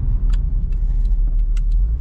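A Nissan car drives on bumpy back roads, a loud steady low engine and road rumble heard from inside the cabin, with a few faint rattles and jingles.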